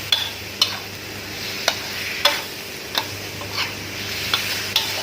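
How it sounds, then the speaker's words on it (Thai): Kaffir lime leaves stir-fried with curry paste, pork belly and long beans, a close steady sizzle punctuated by regular sharp taps and scrapes of the spatula against the pan, with no talk. "เติมใบมะกรูดลงไปแบบนี้ครับ ก็ผัดให้เข้ากัน"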